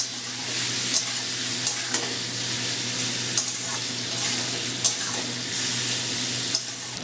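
Ridge gourd with shrimp and turmeric fries on a medium flame, a steady sizzling hiss broken by several sharp clicks and scrapes of stirring at irregular intervals.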